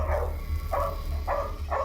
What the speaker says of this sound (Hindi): ये आवाज सुनाई दे रही है? कुत्तों का लीडर है ये।